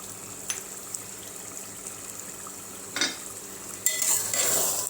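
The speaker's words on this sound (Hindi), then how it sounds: "अच्छे से हमें इसे मिक्स कर लेना है" Keema frying with green chillies and kasuri methi hisses steadily while a spoon scrapes and stirs it. Two louder bursts of sizzling and scraping come near the end, and no one talks.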